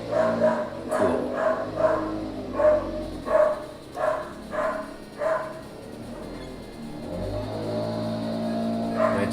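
A pet dog barks repeatedly at a running lawnmower, about eight sharp barks in an irregular run over a steady engine drone, then the barking stops and only the mower hum continues.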